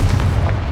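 A single deep, heavy blast from the Confringo blasting spell in the video game Hogwarts Legacy, a short booming burst that stays loud for its full brief length.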